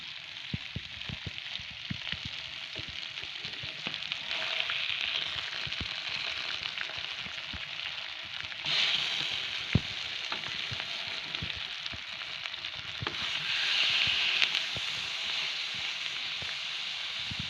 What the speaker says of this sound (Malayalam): നല്ലൊന്ന് വറുത്തിട്ട് നോക്കാം